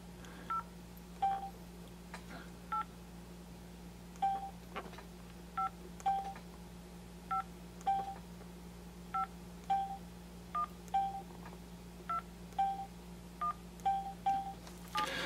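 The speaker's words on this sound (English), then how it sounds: "So we'll just dial a quick number." DTMF keypad tones from an LG Dare touchscreen phone being dialed, a steady run of short beeps spaced about a second apart over a low background hum, with no talking.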